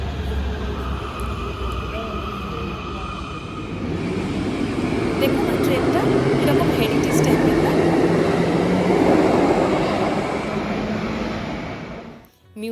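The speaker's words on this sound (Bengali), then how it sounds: "এই যে আসছে এই মেট্রো এতে করেই এবার আমরা যাব মিউনিক সেন্ট্রাল স্টেশনে" A metro train pulling into a station in Munich, its rumble and rolling roar building steadily to a loud peak, then fading as it slows, with station ambience throughout.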